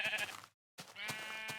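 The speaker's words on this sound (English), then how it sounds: "that sheep deserves not to have been sheared, because he successfully escaped." Sheep bleating in the Minecraft video game, two clear bleats separated by a short silent gap, loud and close with no talk.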